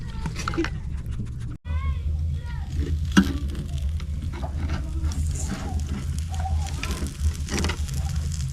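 Vegetarian shashlik skewers frying over heat give off a steady, broad sizzling hiss that runs nearly the whole time, with faint voices and small clatters in the background.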